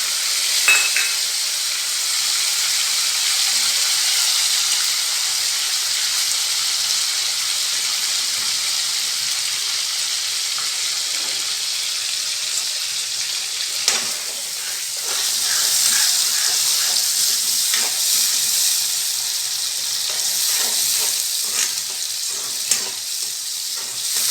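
Green chilies and tomatoes for a tempering sizzle steadily in hot oil, a loud continuous frying hiss with faint stirring scrapes running throughout, no talking.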